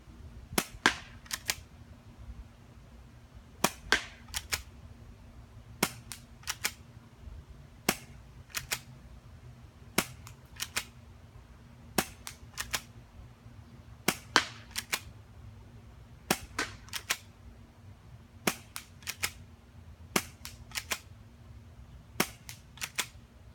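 A 1911 pistol fires at a target from 50 feet: about two dozen sharp, fairly distant cracks come in loose groups of two or three, with quiet gaps between them.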